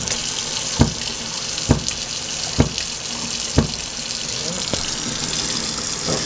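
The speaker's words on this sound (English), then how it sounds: "pulsating sound seems to be coming from the kitchen faucet." A kitchen sink faucet runs with a steady hiss of water, broken by a rhythmic pulsating thump roughly once a second.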